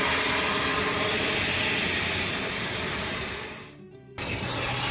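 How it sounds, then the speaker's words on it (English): Steady, loud whooshing roar of a powerful vacuum's suction cleaning a Hummer H2, briefly cutting out near the end before roaring back. "This is a really high powered suction vacuum."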